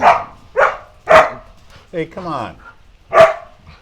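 Dogs bark loudly and close in a handful of sharp, separate bursts outside a house for sale, with a person calling out between barks.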